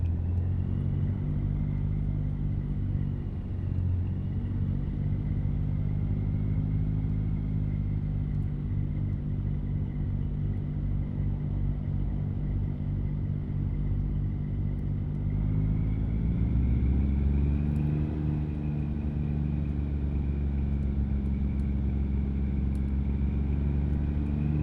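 Kenworth truck engine from American Truck Simulator, a steady low droning rumble while driving, with a shift in pitch partway through as the engine note rises, continuous and close with no talk.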